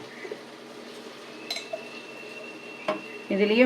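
A metal ladle is set down in a cooking pot of kanu kootu, giving a couple of light metallic clinks, followed by a short burst of sizzling.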